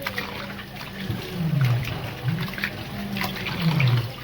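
Water runs and splashes while mutton is washed in a kitchen, a close, steady trickling with gurgling swells at intervals.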